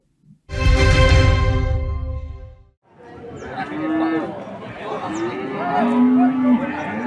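Cattle at the Pahing livestock market in Randu Blatung, Blora: one loud, long, deep moo close by, followed by steady market chatter and voices in the background.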